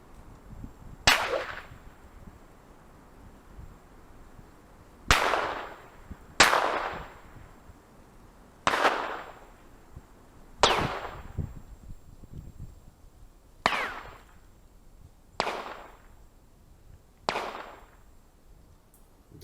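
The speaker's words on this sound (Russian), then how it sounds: "Хорошо, что взялся у полуавтомат. Пришлось несколько раз стрелять. Стрелял по волку." Eight sharp gunshots from a semi-automatic rifle fired at a wolf near a farm, irregularly spaced over about nineteen seconds, each loud crack trailing off in a brief outdoor echo.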